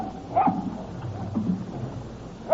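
Dog whimpering and giving soft yips while digging at an outdoor spot at night, with short whines coming in bursts over quiet background noise.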